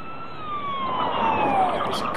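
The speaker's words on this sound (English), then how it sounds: "Oh, there's a car. Police car." A police car siren in the Mega Man Legends video game wails in a long falling tone, loud and clear over a faint background.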